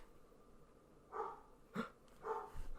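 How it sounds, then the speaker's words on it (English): A dog gives a few short, faint barks and yips at irregular intervals, heard at a distance over quiet indoor background. "I'm gonna go let those dogs out."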